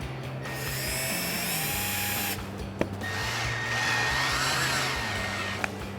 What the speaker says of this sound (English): wrap it around the back of the last bow, and we're gonna screw it right to the bow